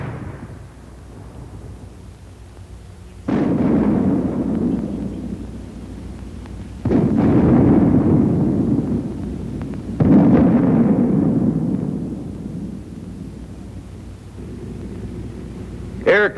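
A mortar fires smoke shells in an infantry weapons demonstration: three heavy, close booms a few seconds apart, each rolling into a long, low rumble that slowly fades, with a further thump near the end.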